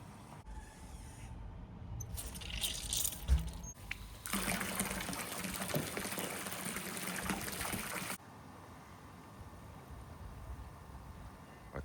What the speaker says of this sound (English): So we'll now get the tap on, fill it right up.